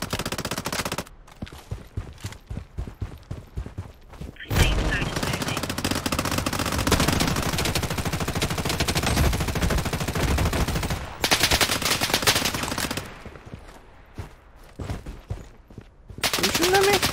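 Rapid bursts of automatic gunfire from an INP-9 build in the video game Project: BloodStrike, loud and near, alternating with short pauses and sustained long volleys, while a player talks intermittently between shots.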